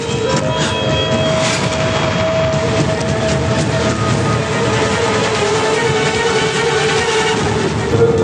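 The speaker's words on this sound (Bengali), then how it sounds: "আসছে শিবু দাদার ট্রেন।" A train rumbles along the rails with a steady, loud roar and faint clatter, holding a continuous drone throughout while it approaches.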